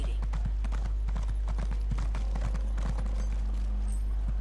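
Rapid rhythmic hoofbeats clatter continuously as a horse gallops in The Elder Scrolls Online, with a low steady hum underneath and a faint whinny near the end.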